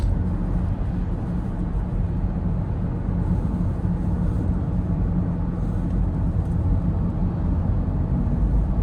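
A 2018 Toyota Auris 1.8 hybrid is heard from inside the cabin driving through a sharp turn on a slight uphill, a steady low rumble of road and tyre noise with a soft engine drone and no talking.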